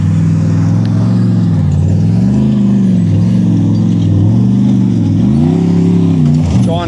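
An off-road race vehicle climbs a hill on the Cliffhanger course, its engine loud and close, revving and rising and falling in pitch as the throttle works continuously.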